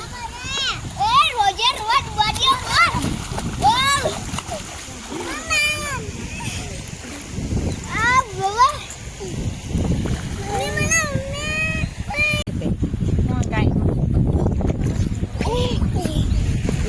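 Bathers splash in river water, with repeated irregular splashes mixed under near, lively chatter from adults and children throughout.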